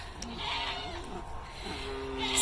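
Goats bleat in a winter pen ahead of kidding season, several short cries rising over steady background noise, with a faint voice briefly present.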